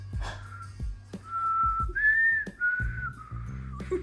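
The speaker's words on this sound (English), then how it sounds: "Trying to whistle while you're smiling doesn't work." A person whistles a wavering, breathy tune in short phrases, alone and close, the notes sliding unsteadily between pitches with small gaps and soft puffs of breath.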